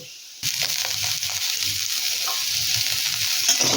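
Potatoes and raw mango frying in a pan, a loud continuous close sizzle that starts abruptly and holds steady, with faint stirring movement underneath.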